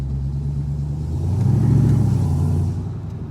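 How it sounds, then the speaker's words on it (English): A 1994 Ford Mustang GT Convertible accelerates on a highway. Its low engine note swells and rises in pitch over a couple of seconds and then eases off, close and loud with no voices. "So I'll give it a little gas here and take a quick little ride around the highway"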